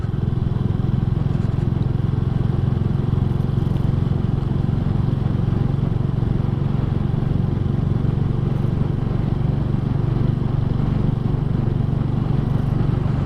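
A Royal Enfield 350 Classic motorcycle rides along a country lane, its engine giving a steady, loud, continuous rumble with clattering mechanical texture and no break for the whole stretch.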